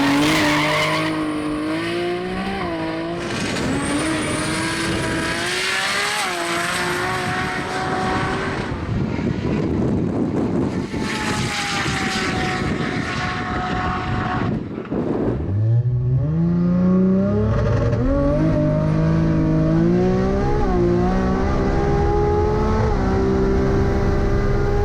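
A 1000-horsepower Nissan GT-R R32 race car accelerates hard on a run, its engine note climbing through gears with shifts and a brief dip before rising again, loud and continuous throughout.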